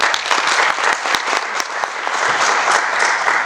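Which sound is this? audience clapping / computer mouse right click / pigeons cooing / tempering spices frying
audience clapping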